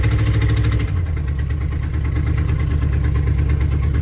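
An old 1995 Ford F250 plow truck engine running steadily, a loud close rumble with a throbbing low pulse that drops slightly in pitch after the first second, then holds an even idle-like drone.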